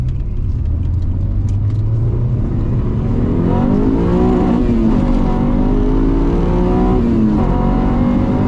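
A Honda H22 engine in a third-generation Honda Prelude with a Euro R transmission revs up steadily, its pitch rising through the gears with a strong, close-up roar and deep rumble.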